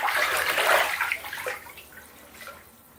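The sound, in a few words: stirring bath water with blood orange bath bomb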